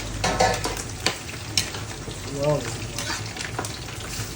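Fresh homegrown patola sautéed in a pan with sardines and miswa sizzles loudly, with stirring scrapes and utensil knocks; a voice exclaims briefly over the frying.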